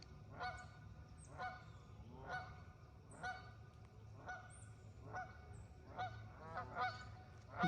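Geese honk repeatedly, about a dozen calls at a fairly regular rhythm, clear and moderately close over a low outdoor rumble.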